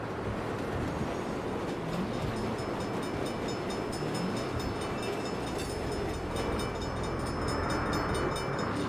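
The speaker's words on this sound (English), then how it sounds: "Crap. Bad time for a train." A train rumbles past in the video game Saints Row (2022), a steady loud roar of rolling cars with clattering texture holding for several seconds, no voices over it.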